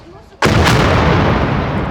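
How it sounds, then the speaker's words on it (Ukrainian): Lancet drone strike exploding in the centre of Sumy, a sudden loud close blast after a quieter moment, followed by a long rumbling roar. "Це момент влучання другого безпілотника в центрі Сум."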